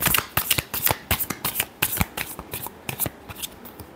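A deck of tarot cards shuffled by hand up close: a fast, steady run of crisp papery riffles and slaps, evenly spaced and alone for several seconds.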